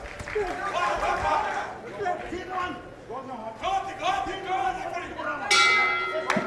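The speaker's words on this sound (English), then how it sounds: "bell goes to the end of the fourth" Boxing ring bell at an IBA Champions' Night bout in Abu Dhabi rings once near the end, a bright metallic clang marking the close of the fourth round, cutting through steady crowd noise and commentary.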